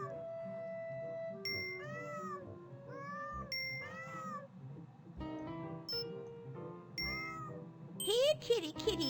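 Cartoonish cat meows repeat in the video game Super Granny, a series of short rising and falling mews over soft background music, with a louder yowling cluster at the end.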